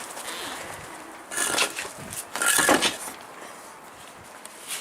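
Pigeons or doves in a rooftop loft on a windy day, with a couple of bursts of wing flapping and fluttering near the microphone over soft background noise, no talking.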